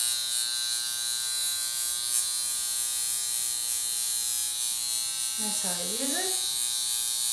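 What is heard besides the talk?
high frequency skin care device buzzing with small electrode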